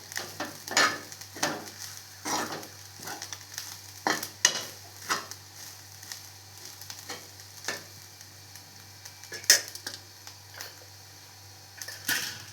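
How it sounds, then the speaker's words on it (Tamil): Grated coconut is roasted and stirred in a pan for idli powder, giving soft steady sizzling with repeated scraping strokes of the spoon in an irregular rhythm, close and fairly quiet with no talk. "தேங்காயை நல்லா வறுத்துக்கிடலாம்."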